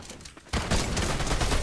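Gunfire in Fortnite breaks out after a brief quiet: a dense, loud burst of rapid shots continues to the end without pause.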